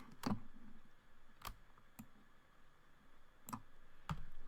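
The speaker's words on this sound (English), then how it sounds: "So I click on the first part here." A computer mouse clicks while audio is edited in Audacity on Linux: a handful of sharp, isolated clicks spaced irregularly over a quiet room background, with no talking.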